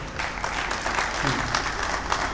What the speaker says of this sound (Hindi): इनके लिए भी तालियां बनती है, बजवा दो।